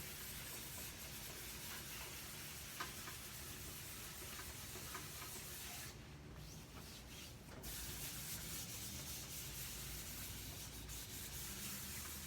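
Wet sanding of primer on a Rans S-20 aircraft, a steady close abrasive rubbing and hissing scrub that runs continuously, with a brief pause in the middle.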